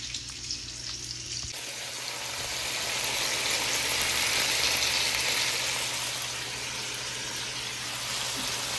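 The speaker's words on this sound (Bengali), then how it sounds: "এখানে ফ্রাই করছি, আরও কিছু করতে দিচ্ছি, হালকা করে করতেছি কারণ এটা রোস্ট করবো।" Food frying in a pan ahead of roasting sizzles loudly and steadily, a dense crackling hiss that starts abruptly and swells, with faint stirring and no talk.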